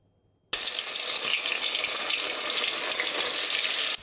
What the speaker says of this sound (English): The sound of fish sizzling in hot oil.